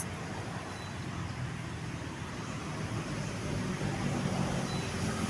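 Steady roar of cars and trucks on a nearby highway beside a riverbank, a continuous low rumble that swells slightly toward the end, with no talking.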